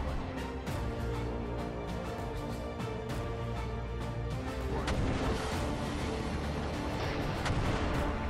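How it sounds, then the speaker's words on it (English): Anti-ship missiles being shot down in the naval strategy game Command Modern Operations: a dense, continuous barrage of booming gunfire and sharp cracking blasts, loud and unbroken, with no talk. "we're shooting down the anti-ship missiles"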